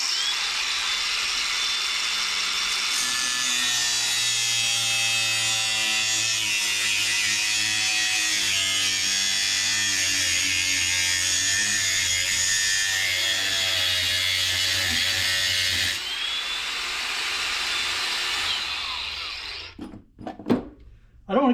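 A power cutting tool runs loudly and continuously along the solder lines of a security DVR circuit board, whining at a steady pitch for most of the stretch before slowing, sputtering and stopping near the end.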